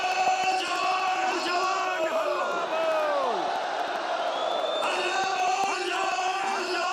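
A large, dense crowd at a Congress party protest rally against the Modi government chants and shouts continuously, with loud massed voices and yells throughout.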